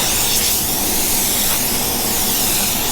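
A spray gun lays base coat paint onto a truck bedside in a paint shop, giving a loud, continuous close-up hiss with slight swells as the gun sweeps across.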